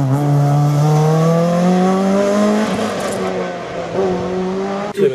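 Race car arriving at the 50th Herenguerville–Quettreville hill climb, engine roaring loud and close with rising and falling revs through gear changes, sustained throughout.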